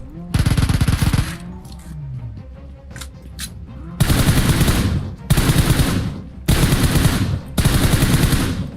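Automatic gunfire in the mobile battle-royale game PUBG Mobile, loud close bursts of rapid shots: one long burst, a pause with short game sounds and a voice, then four evenly spaced bursts of about a second each.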